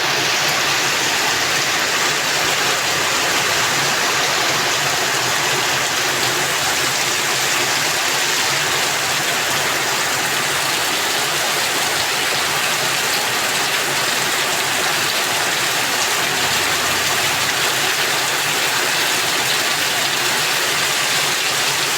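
Steady, loud heavy rainfall in Malaysia hisses without pause, a thick wash of water sound with a faint low rumble underneath.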